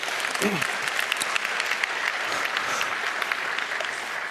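Applause from a hacker conference crowd in a large hall, steady moderate clapping spread across the room, with a brief murmur of voices partway through.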